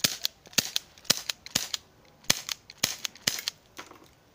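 Shots from a KWC Mac 11 air pistol fired outdoors at bottles: about fourteen sharp cracks come in uneven clusters, loud and close, with no voices.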